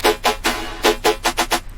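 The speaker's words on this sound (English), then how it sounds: "So what the looper does is it takes a bit of the sound and then loops it all together." Trap beat run through a looper effect set to 1/8 triplet notes with the speed turned all the way up, giving a stuttering chain of short repeated bursts, loud and close, with no voices.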